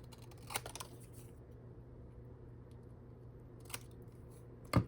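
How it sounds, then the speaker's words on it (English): Small Cutter Bee scissors snipping rounded corners on paper tickets: a few quiet, crisp snips spaced apart, heard close against a low steady room hum. "I like to use my smaller scissors, of these cutter bee scissors, to do the little rounded notched corners of the ticket"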